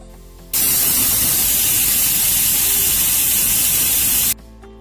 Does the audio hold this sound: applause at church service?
no